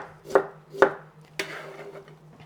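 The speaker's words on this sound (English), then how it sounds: "since I have my food processor out, I could have totally grated this into broccoli rice" A food processor finely chopping broccoli into a coarse texture, heard as three sharp pulsed bursts about half a second apart over a steady low motor hum, close and moderately loud with no talk.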